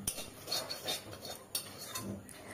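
Metal utensils clink and scrape against a pan and bowl as fried prawns, previously frozen, are lifted out; a few sharp taps stand out over soft, steady scraping, close by with no talk.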